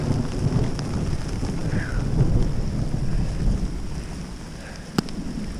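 Heavy rain pouring down on a hiking trip near a lake, a steady close wash of rain and wind over the microphone with a sharp crack near the end, no talking.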